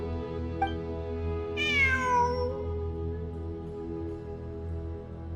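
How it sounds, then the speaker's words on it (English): A single drawn-out cat meow with a falling pitch sounds once over a steady ambient backdrop in the video game Genshin Impact, fairly quiet and clear, with no talking. "It really is a cat."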